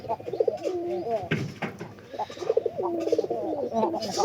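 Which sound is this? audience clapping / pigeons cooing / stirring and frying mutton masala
pigeons cooing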